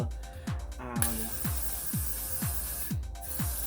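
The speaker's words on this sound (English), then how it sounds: "take my got to be glue, spray the lace" Short bursts of aerosol glue spray hiss close by onto wig lace, alongside a steady rhythmic mechanical clicking that repeats about every half second.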